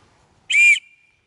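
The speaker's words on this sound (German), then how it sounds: "die pfeift potenziell bis zu 110 Dezibel laut" A single loud, steady whistle blast lasting about a third of a second, sounded alone from the small emergency whistle built into an Opinel Explore folding knife, with a faint tone lingering briefly after.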